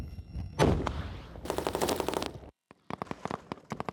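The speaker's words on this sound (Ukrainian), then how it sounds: "Постріл!" Rapid bursts of gunfire during a Ukrainian border guard brigade training exercise crack out in close succession, loud and near, with a brief silence before more sharp shots ring out.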